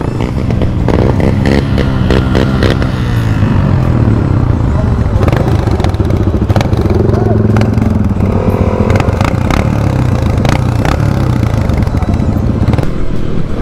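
Motorcycle ridden slowly along a rough off-road trail on the 7 lakes circuit, loud continuous engine drone with rattling and clattering over bumps, a rider talking over it.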